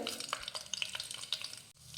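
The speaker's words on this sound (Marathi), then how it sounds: "मोहरी तडतडली की घालूयात अर्धा चमचा जिरं" Cumin seeds and mustard seeds splutter in hot oil, a quick crackle of small pops over a soft sizzle, close but faint.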